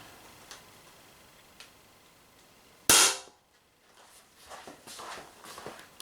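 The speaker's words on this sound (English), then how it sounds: "Let me see if I can shoot off the remaining 2 balls." A Crosman Stronghold P7 CO2 pistol firing coated steel balls lets off one sharp, loud pop that fades fast, with a few faint clicks and handling noises before and after.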